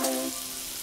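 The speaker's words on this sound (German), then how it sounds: "Wir nehmen jetzt einfach mal 400 Milliliter Sahne und werden diese Sahne jetzt da in die Kartoffeln, in die Zwiebeln reintun." About 400 ml of cream going into a pan of frying potatoes and onions, a brief wash of sizzling hiss that settles into steady frying noise, close up with no voices.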